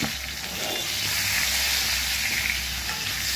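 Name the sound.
potatoes frying in oil in a wok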